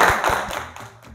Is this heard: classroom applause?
yes